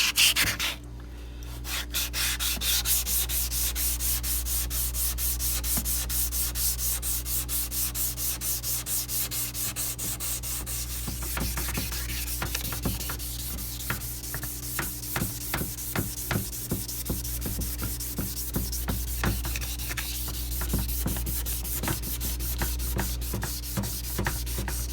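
Wet sanding a headlight on a 2004 Acura TSX with 600-grit sandpaper, a continuous close rubbing with rhythmic back-and-forth strokes that grow more distinct over time.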